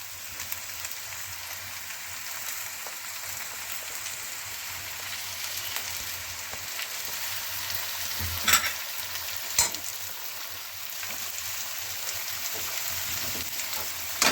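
Onions, green chillies and masala frying together in a pan for baingan bharta give a steady close sizzle for the whole stretch, with a couple of sharp stirring clatters near the middle.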